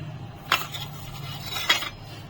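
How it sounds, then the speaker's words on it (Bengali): Two sharp metal clinks of a utensil against a bowl while flattened rice is being mixed with fried spices, sugar, chopped onion and coriander leaves, over a quiet steady background hum. "এখন সবগুলো একসঙ্গে মিশিয়ে নেব"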